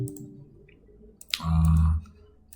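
Mouse clicks at a computer while a Windows path for Apache Spark is set up, a few sharp close clicks followed by a brief low hum, no talking.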